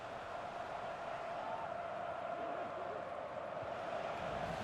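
Stadium crowd noise in the FC 25 football game during an all-stars match between Al Nassr and Barcelona, a steady roaring murmur of fans that holds evenly throughout without breaks.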